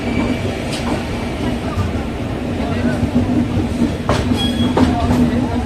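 A train at an Indian railway station on the Coimbatore–Nagercoil–Kollam route. A steady rumble runs throughout, with occasional sharp metallic clanks and squeals, and crowd noise sits in the background.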